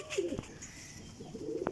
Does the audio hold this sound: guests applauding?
no